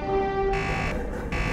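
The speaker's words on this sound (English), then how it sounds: "What is hitting the buzzer, flinging the things around?" A buzzer sounds inside the cab of a diesel railcar in a train simulator game, a harsh electronic tone switching on and off in two short bursts over a steady engine hum, fairly loud and close with no talking.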